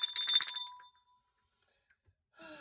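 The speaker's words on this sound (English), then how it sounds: "Oh no, my coffee cup is on the bell." A small dollar-store bell rings once with a coffee cup resting on it, giving a bright, muffled ding that fades within a second. A faint second tinkle follows after a short silence.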